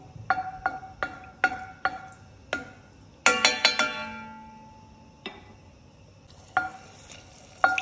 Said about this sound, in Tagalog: Ilagay ko na ang bawang. Hintayin kong maging golden brown.